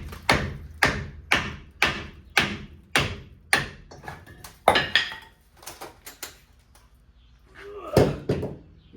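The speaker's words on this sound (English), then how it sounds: "Little hammer action." A small hammer striking parts during a brake job on a Toyota Tundra, about ten sharp metallic knocks in a steady rhythm, then scattered lighter clanks and a final louder hit.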